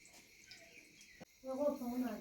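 Water being poured into a hookah's base, a steady liquid splashing and gurgling that swells in the second half after a brief quieter stretch, close to the microphone.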